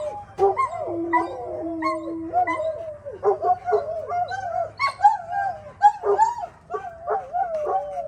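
A dog named Sadie whimpers and howls in wavering, drawn-out cries that rise and fall, close and fairly loud, with short yips and whines between the howls and no talking.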